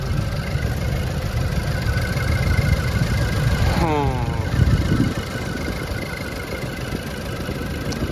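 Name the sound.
2012 Range Rover Evoque 2.0 EcoBoost engine idling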